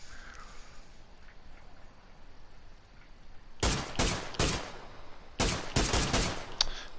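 Gunfire in the PUBG battle royale game on PS4: after a few seconds of quiet ambience, a rapid series of loud, sharp shots rings out in two close clusters of about five bursts each.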